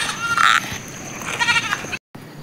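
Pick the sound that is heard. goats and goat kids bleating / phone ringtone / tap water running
goats and goat kids bleating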